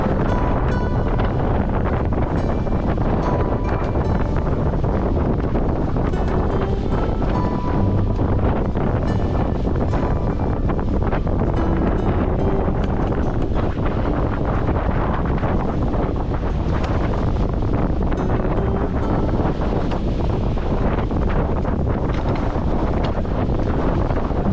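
Strong wind roaring across the microphone at sea aboard a sailing catamaran, a constant loud buffeting rush mixed with water and hull noise, with no voices.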